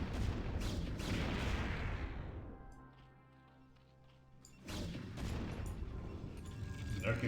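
Photon Cannons and Dragoons blasting a Lurker in StarCraft: Brood War, a dense run of rapid energy shots and impact booms that drops to a quiet lull before the barrage resumes, with commentary running over it.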